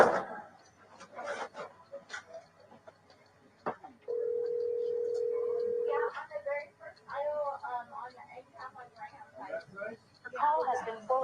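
Telephone call in progress, with a steady tone held for about two seconds between stretches of people talking before the call goes to voicemail.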